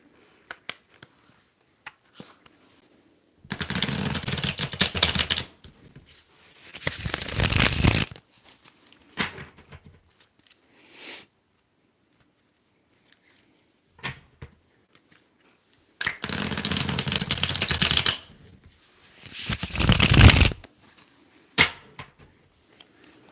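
Two pairs of brisk riffling tarot card shuffles, each a burst of papery flutter lasting a couple of seconds, separated by quiet pauses and a few soft taps.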